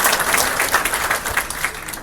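Audience applause at a Marco Rubio political speech in a Las Vegas school, a steady dense patter of many hands clapping close by for about two seconds, with no voice over it.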